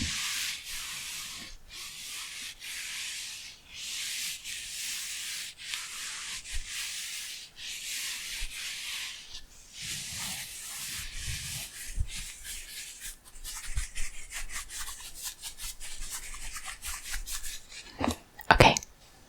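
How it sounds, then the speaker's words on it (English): Fabric being scratched and rubbed up close, in repeated bursts of soft rasping strokes with short pauses between them, ending with a few sharper handling noises. "I love the fabric sounds."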